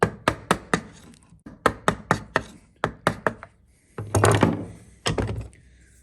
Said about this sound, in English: Take my chisel round the correct way, take off the corner, begin to angle the chisel up.